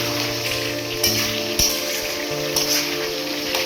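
Chicken curry sautés in a pan with a continuous close sizzle and crackle, and a few sharp stirring knocks land against the metal.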